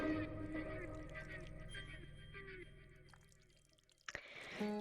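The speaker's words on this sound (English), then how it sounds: "So we're gonna hear squilch and splash and all that again." Wet squelching and splashing from a tongue creature in a video game, with dripping, liquid textures running throughout under game music and speech, then a sharper splash near the end.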